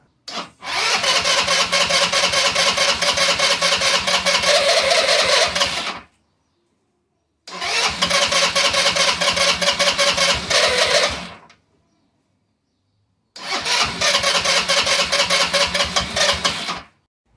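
A Chinese GY6 scooter engine, just back together after a carburetor cleaning, cranks in three long bursts of about five seconds each, with short silent pauses between them. Each attempt is loud and close, and the engine never catches.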